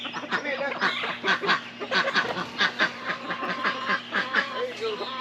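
Several ducks quack and honk repeatedly at close range in a farmyard among chickens, a busy overlapping chorus with no speech over it.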